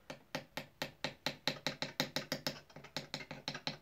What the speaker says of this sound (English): So here's this is like a lawnmower file.